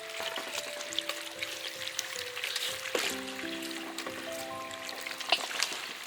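Potatoes being washed by hand in water, with a steady pour and trickle plus light splashing throughout, close and moderately loud, while a soft tonal background plays underneath.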